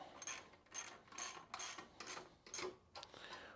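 A ratchet wrench tightens 17 mm bolts while a Grizzly G0960 mini sawmill is being assembled, with a series of quick, close clicking ratchet strokes in an uneven rhythm and no voices.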